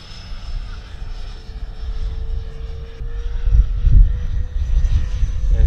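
Dynam Gloster Meteor radio-control jet model passing at full throttle during a maiden flight, a steady whine and rushing drone that swells louder toward the end as it comes nearer.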